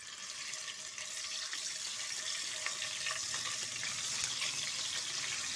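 Paneer pieces fry lightly in hot oil, a dense continuous hiss and crackle close up, loud and even throughout with no voices.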